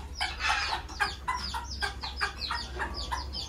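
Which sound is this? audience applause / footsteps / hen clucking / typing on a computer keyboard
hen clucking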